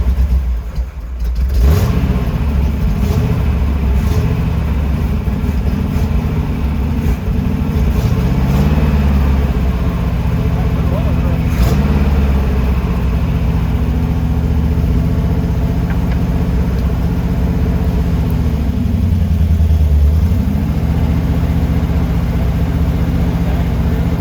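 An old church bus engine fires up and then runs steadily with a few uneven revs, a loud, continuous mid-pitched rumble heard up close from start to finish.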